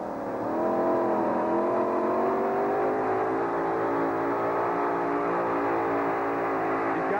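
Engine of the Irish Challenger pulling vehicle roaring on the track at a USHRA event in Uniondale, 1991: a loud, sustained, strained drone that climbs and wavers steadily for several seconds.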